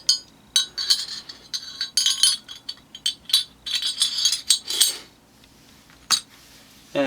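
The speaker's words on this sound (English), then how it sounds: "we're going to slide the barrel into the slide." A TimberWolf/LoneWolf Glock 17L clone barrel is slid into its slide, producing a run of close, bright metallic clinks and small rattles in irregular bursts, with brief pauses between them.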